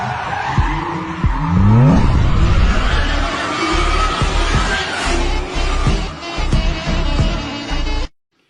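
A car drifting under full throttle with the handbrake pulled, tires squealing and skidding loudly over a roaring engine for several seconds before cutting off abruptly.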